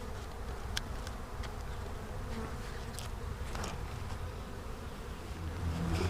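A steady, dense buzz of honeybees fills the air around an opened long hive, a continuous close-up drone with a few individual bees zipping louder past the microphone now and then.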